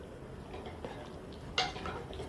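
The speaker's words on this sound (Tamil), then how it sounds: "லைட்டாக தான் இதை பரட்டி விடணும்." A utensil scrapes and knocks softly against a pot of village-style eel fish curry as it is stirred lightly, a few faint scrapes with one sharper clink near the end over quiet background.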